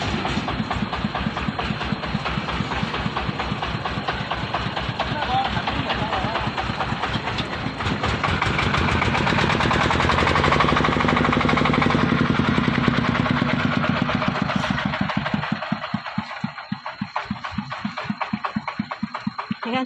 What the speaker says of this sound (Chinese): 你看这张拖拉机，这里下雨天路不好，焊进去了，